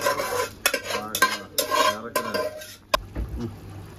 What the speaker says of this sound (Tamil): மாஸ்டர் அரிசியை இறக்கிட்டு இருக்காரு.